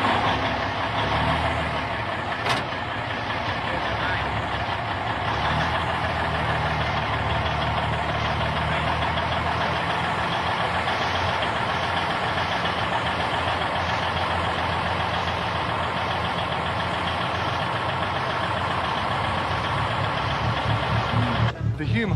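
Heavy trucks idle and rumble steadily at a 1979 highway blockade on the Razorback, a continuous loud diesel drone with a brief sharp burst near the start.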